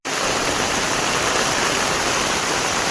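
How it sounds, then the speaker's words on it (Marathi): Heavy monsoon rain pours down over a flooded Konkan village, a dense, unbroken hiss of falling water and rushing runoff, loud and steady throughout with no voices. "पाऊस पूर्ण चालू आहे आणि पाणी बघा किती"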